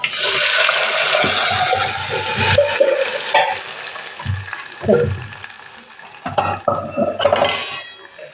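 Boiled dal poured into a sizzling oil tempering of coconut, coriander and curry leaves in a pan makes a loud burst of hiss and splashing, then scattered stirring clatter and bubbling bursts that fade and return.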